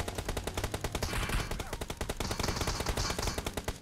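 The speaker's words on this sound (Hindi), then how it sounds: "अच्छा हुआ ये बंदा थोड़ा लेट से मेरे ऊपर फायरिंग करता है" Loud, rapid automatic gunfire in the PUBG Mobile battle royale game, with dense bursts of shots fired continuously at close range throughout.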